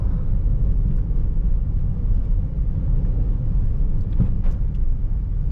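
A 2013 Perodua Myvi 1.5 SE automatic drives along a road, giving a steady, fairly loud rumble of engine and tyre noise inside the car, with no voices.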